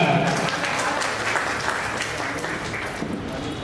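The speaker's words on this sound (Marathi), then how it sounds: "त्यासाठी एकदा जोरदार परत टाळ्या." Audience at a Sant Rohidas Jayanti celebration claps loudly and steadily, a dense, sustained burst of applause throughout.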